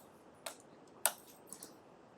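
A computer mouse gives a few soft, close clicks, three sparse taps with the middle one sharpest, against quiet room tone.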